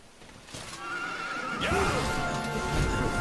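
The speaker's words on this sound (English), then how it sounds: "Luckily, there's some horses there that were not there before." Horses in the video game Dragon Quest XI whinny loudly over a rising bed of rumbling game noise and hoof clatter, with one long, wavering neigh standing out near the middle.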